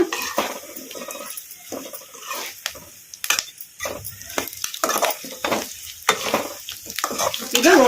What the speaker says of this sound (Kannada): ಒಗ್ಗರಣೆಗ ನುಗ್ಗೆಕಾಯಿ ಹಾಕಿದ್ಮೇಲೆ ಚೆನ್ನಾಗಿ ಕಲಿಸ್ಕೊಂಡ್ಬಿಟ್ಟಿವಲ್ಲ